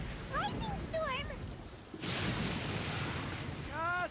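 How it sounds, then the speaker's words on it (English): Rain falls steadily during a thunderstorm in Genshin Impact, with a sudden rumbling burst of thunder midway, while a voice talks over the start and end. "Uh-oh! Lightning storm!"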